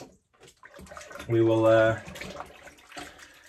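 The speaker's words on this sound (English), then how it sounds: "get some water in there." Water runs briefly from a tap into a shaving bowl holding Wickham 1912 Christmas Spruce shaving soap, a short steady rush lasting under a second, with someone talking just before and after.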